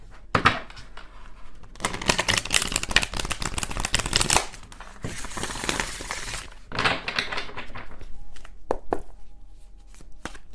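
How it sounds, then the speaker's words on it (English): A deck of tarot cards is shuffled in several long riffling bursts, the crisp, papery flutter loud and close, with short pauses and taps between shuffles and no talking. "One more shuffle and then"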